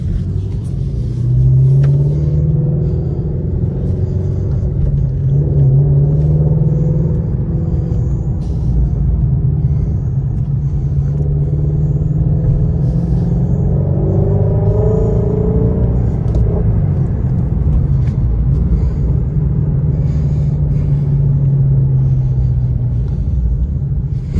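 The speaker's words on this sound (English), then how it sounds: "First drive in over a month in the Shelby" A Shelby GT350 is driven on worn tires. A deep, steady engine and road rumble fills the cabin throughout, with mild swells in the low drone as it accelerates.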